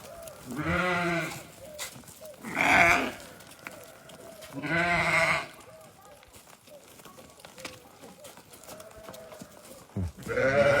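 Hisori breed ram and sheep bleating in a farm setting, three loud, drawn-out harmonic bleats spaced a couple of seconds apart, followed by quieter background noise and another call starting at the end.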